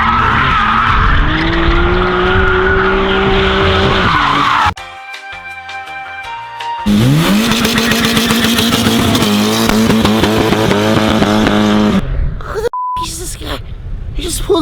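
A Nissan Altima driven in a drift, engine revving hard with tire squeal and skidding. A brief quieter stretch with beeping cuts in, then loud revving and squealing resume, with voices talking over parts of it.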